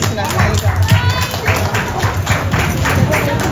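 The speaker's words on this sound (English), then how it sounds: "Let us give them a round of applause." Applause from an audience at a completion ceremony, steady clapping with a close, busy texture throughout, running for a few seconds with a faint hum underneath.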